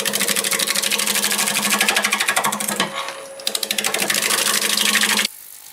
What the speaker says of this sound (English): We'll start out with this spindle roughing gouge